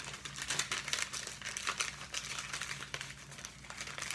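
Paper wrapping being unwrapped from a petition, close dense crinkling and rustling with small tearing snaps, continuous and fairly quiet with no voice.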